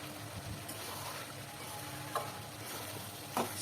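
Spices and salt cooking in oil in a pan, a soft continuous sizzle, faint and close, with a couple of brief clinks of a spoon against the pan.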